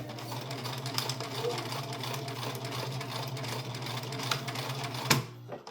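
A sewing machine tacks fabric for a cloth diaper, a steady close mechanical whir and buzz throughout, ending in a sharp snap as the machine stops.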